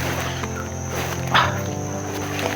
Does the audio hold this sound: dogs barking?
yes